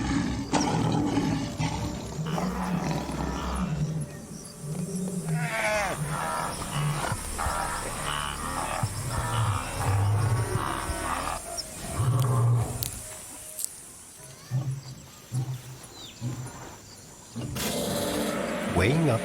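A lion roars in the wild, deep heavy bursts repeating through the clip with pauses between them, loud and close, joined by other animal cries.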